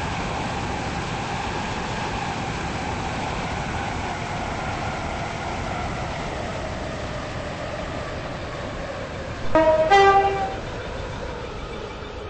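A passenger train rolls into St. Helens Bridge station with a steady, even rumble from the carriages, and a brief horn blast sounds near the end.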